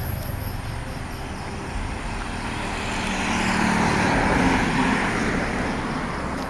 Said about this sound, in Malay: Orang bermotor,